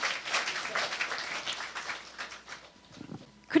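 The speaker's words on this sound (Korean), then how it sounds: "박수로 맞이해 주십시오" Audience at a lifelong education policy seminar applauding to welcome panelists, a moderate wash of clapping that gradually thins out and fades toward the end.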